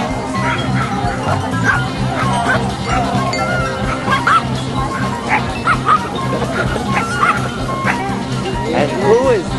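Small Yorkie puppies yip, whimper and bark in quick, high bursts throughout, close and loud, with people talking and calling over them.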